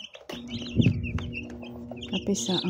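Newly hatched chicks from a manual incubator cheep and peep in quick, high bursts, close and fairly quiet, with a low voice murmuring faintly underneath.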